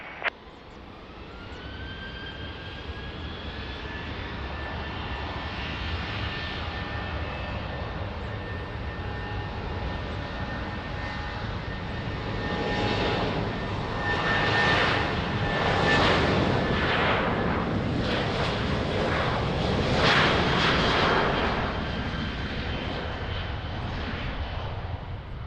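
An airplane takes off from runway 20 at Lisbon Airport, its engine roar building steadily and holding loud and continuous for the whole stretch, with no voices over it.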